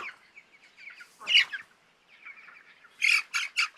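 Five-week-old chickens on a farm squawk in a rainstorm, with a few loud, harsh cries and then a quick run of three or four close squawks, alone over softer chirping in the background.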